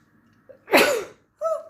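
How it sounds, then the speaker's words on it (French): A single loud, close sneeze bursts out after a brief intake of breath, then a short voiced sound follows, indoors during a diamond painting keychain craft session. "J'ai envie d'éternuer."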